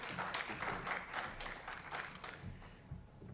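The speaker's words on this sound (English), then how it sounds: "give her another round of applause for the food and everything else." Audience applause at a Greater Kankakee Black Chamber of Commerce event on access to capital, a steady broadband patter of many hands clapping that fades slightly toward the end.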